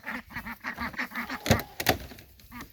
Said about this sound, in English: But so here is the ducks.